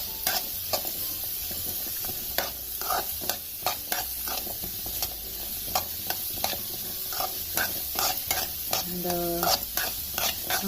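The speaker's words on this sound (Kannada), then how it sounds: "ಒಂದು 10 ನಿಮಿಷವಾದರೂ ನಾವು ಹುರ್ಕೋಬೇಕಾಗತ್ತೆ" Radish and peanuts stir-roasted in a pan for chutney, a spatula scraping and clinking in regular strokes over a soft, constant sizzle, close and alone without speech.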